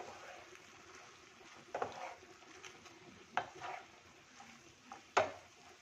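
Spoon stirring bread pieces into soft masala in a pan, with faint scraping and soft clinks and a few sharper knocks against the pan, quiet and close with no talk.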